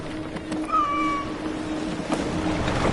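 A cat meows on a sailing ship in Assassin's Creed, one clear drawn-out meow over a background of creaking timber and sea ambience.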